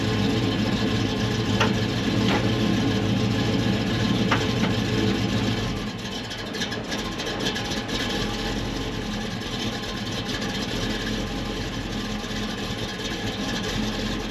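A 1964 Chevrolet Chevelle engine runs steadily and loudly nearby with a fuel-delivery fault, keeping a continuous rumble that dips slightly in intensity about halfway through, and no one speaks.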